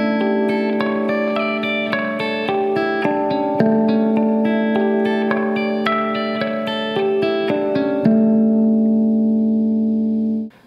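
Guitar harp harmonics played as a dominant 7 type chord, a quick cascade of bell-like chiming notes ringing over one another with heavy sustain, ending on a final held chord.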